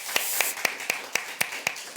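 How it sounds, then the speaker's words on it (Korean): A church congregation claps in welcome, an even, rhythmic series of claps at roughly four beats per second, close and moderately loud. "우리 박수로 한번 환영하고 축복합니다."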